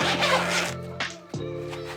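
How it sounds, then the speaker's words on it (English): The zipper on a NearStream AWM25T wireless lav mic case is pulled in a long rasping stroke, followed by two short quick tugs, close up and clear. "It's a pretty nice quality zipper too"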